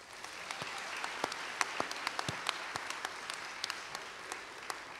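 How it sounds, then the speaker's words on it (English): An audience claps at a university honors convocation. The applause is even and sustained, with sharp individual claps standing out, heard from a moderate distance in a large hall. "let's give all the honorees and special guests a round of applause"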